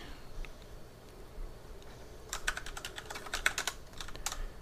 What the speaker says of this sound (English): Had to buy a new keyboard. I don't know if you can hear the keys.